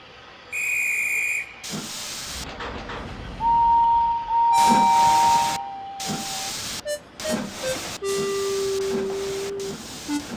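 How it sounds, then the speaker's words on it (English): A steam locomotive in a Trainz simulator animation lets off loud bursts of hissing steam, alternating with clear whistle tones and short puffs across several seconds, with no voices. "As Henry puffed out of sight, Gordon and his crew returned, none the wiser"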